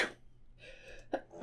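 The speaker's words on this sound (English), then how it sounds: "I sneezed right into my shirt." A single sharp human sneeze with a breathy intake before it, close and fairly loud, followed by brief breathy sniffs.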